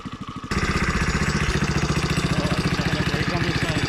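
A small Briggs engine fires up on a cold day after a single pull start and settles into a loud, close, rhythmic chugging idle with an even pulsing beat.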